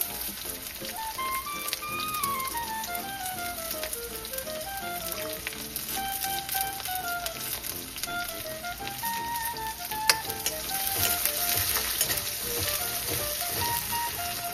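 Garlic and chili fry in a pan with a steady, close sizzle and crackle, with light popping spatter and music playing over it throughout.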